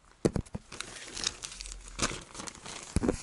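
A plastic Otto shipping bag is handled and crumpled, giving loud crinkling bursts and rustles that come and go near the microphone, with no speech.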